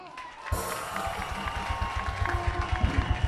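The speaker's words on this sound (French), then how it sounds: "Mesdames et messieurs, ça mérite une salle d'applaudissements." Audience applause and cheering at a 2010 gold record award ceremony for Longue Longue, swelling in and continuing as steady, dense clapping from a crowd, with voices mixed in.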